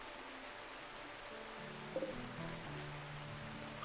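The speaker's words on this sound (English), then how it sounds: "We have rain, don't we? We do have rain" Rain in the video game RimWorld makes a soft, steady patter, quiet and continuous, with a few faint tonal sounds over it.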